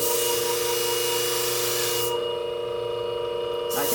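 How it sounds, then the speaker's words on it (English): Alcohol sprayed onto steel shear blades during sharpening, a broad hissing spray over a steady machine hum, cutting off sharply partway through while the hum continues. "if I do this again and spray it with a little alcohol"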